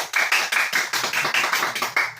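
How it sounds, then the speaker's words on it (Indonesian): A small group in a classroom claps in a quick, even rhythm, roughly ten distinct beats close by, with no voices. "Berikan tepuk tangan"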